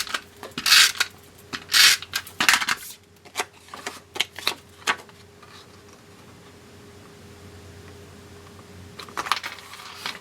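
Designer Series paper handled and attached to a card front, with several loud crinkling, rustling bursts up close, then quieter taps and presses, and more paper rustling at the end.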